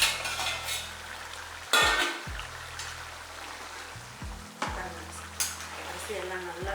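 A spoon turns coconut milk mutton biryani rice in a pot over high flame, giving soft scraping stirs and faint crackle under a steady background hum, with a few louder knocks against the pot.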